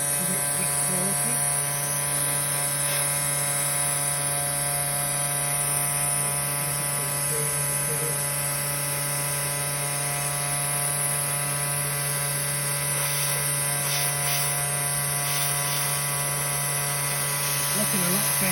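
A CNC router with a faulty setup, fitted with a flexible hose, mills material off a workpiece in a steady, loud mechanical whine with strong constant tonal hum and grinding throughout, continuous and close.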